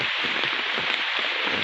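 Heavy downpour of rain in Paynesville, a dense, even hiss of drops drumming on surfaces, steady and loud throughout with no voices.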